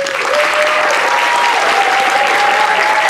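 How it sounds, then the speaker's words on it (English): A high school concert audience claps steadily and loudly for the musicians and singers, a thin sustained whistle-like tone running over the applause. "A big round of applause for all of our musicians and singers."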